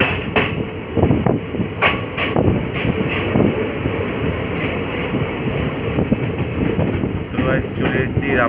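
Train pulling into the dim, quiet Rampurhat station platform, a steady rumble with repeated sharp metallic clanks and clicks from the carriages, heard from on board.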